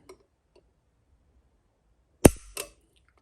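Dry-fire trigger break of a .44 handgun during a trigger pull test, a sharp close metallic snap followed by a second softer click, both crisp and isolated in a quiet room.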